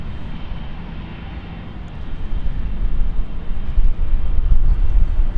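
A DC Aviation business jet, stated to be a Cessna 560, departing London City for Munich, heard as a loud, steady engine roar that builds as it climbs away, with wind buffeting the microphone and no talk.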